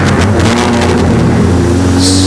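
Mini stock race cars at Flamboro Speedway accelerate hard on a green-flag restart, producing a loud, close, droning engine roar from several cars with a rising whine toward the end.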